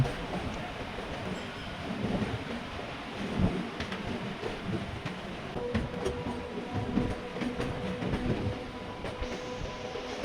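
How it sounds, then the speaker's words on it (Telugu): A passenger train slowing near Nidadavolu rumbles along at low speed, a steady broadband roar with faint rattling and occasional knocks, continuous throughout. "ట్రైన్ స్లో చేసారు"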